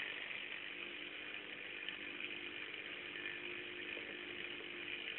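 A small battery-driven electric motor in a homemade generator runs steadily, a constant buzzing whir with a faint hum underneath, even and unchanging throughout.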